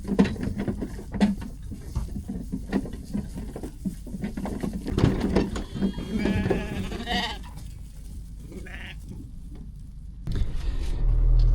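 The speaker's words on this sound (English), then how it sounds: "So this is the lambs running onto the new grass here." Lambs bleat while running onto new grass on a sheep farm, several cries scattered over busy pattering and rustling, fairly close, with no talk heard.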